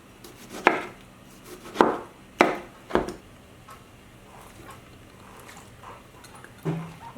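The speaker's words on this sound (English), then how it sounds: "I'm just gonna be cutting in." A knife cutting through food on a cutting board while tomatoes and cilantro are prepared for ceviche: four sharp chops spaced about a second apart, then softer taps and a final light knock, close with no speech.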